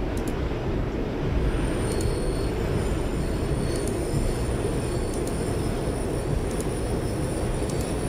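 R62A subway train running in the OpenBVE train simulator game, a steady loud rumble of wheels and motors with faint high squealing tones, continuous and close throughout.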